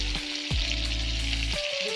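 Ginger and cumin paste sizzles and spits in hot oil, a steady close frying hiss with a few clinks of a utensil against the pan.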